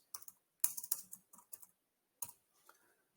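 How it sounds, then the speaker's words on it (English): Computer keyboard typing in short bursts of close, crisp key clicks, a quick flurry of taps, a pause, then a few more strokes, entering a word in capitals on a new line. "So I create a new line and I type STEM, do it in caps."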